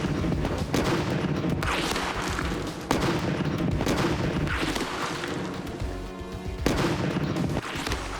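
An original American Civil War smoothbore cannon firing round shot at short range: repeated heavy booming blasts, loud and close, spaced a couple of seconds apart, each followed by a rumbling decay.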